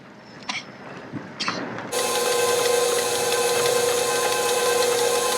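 An electric stand mixer starts up at about two seconds and runs on as a steady, loud mechanical whir with a constant hum while mixing chocolate chunk cookie dough with flour. A few faint knocks come before it.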